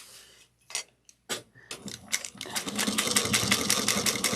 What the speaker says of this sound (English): So I'm going to sew from here, back stitch here, and then sew from here